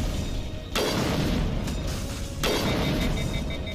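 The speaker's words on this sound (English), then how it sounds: "Yeah, those shots are coming from him." An enemy gunner's shots in a video game: two heavy, booming blasts about two seconds apart, each followed by a rumbling tail over a constant background of game noise.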